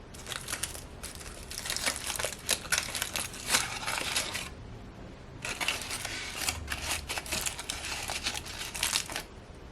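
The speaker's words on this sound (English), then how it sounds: "Let's unwrap one." Crinkling foil being peeled off a hot, freshly baked small potato from a mini toaster oven, a dense run of crisp rustles and crackles close up, pausing briefly midway before resuming.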